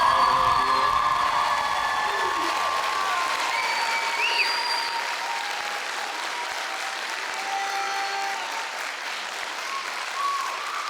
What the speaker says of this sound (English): can we give our representatives from the London New Year's Day Parade one more round of applause?